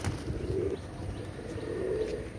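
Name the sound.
pigeon cooing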